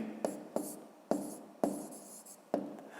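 Pen writing on paper during a fifth-grade maths exercise, with five sharp taps or strokes spread unevenly across a few seconds, each trailing into soft scratching, close and fairly quiet with no talk.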